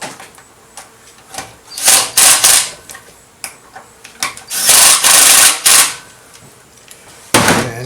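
Weak impact wrench snugging up bolts on the flywheel of an old BIO100 wood chipper mulcher, sounding as several loud buzzing bursts of a few seconds each with short clicks and scrapes between them, close by.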